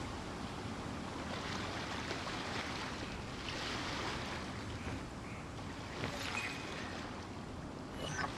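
Continuous ocean surf with a broad, even wash of breaking water and some wind rumble, faint and steady throughout, no voices present.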